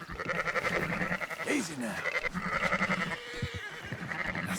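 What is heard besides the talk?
sheep bleating in the video game Red Dead Redemption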